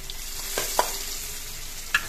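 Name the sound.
crushed garlic sizzling as it is added to hot oil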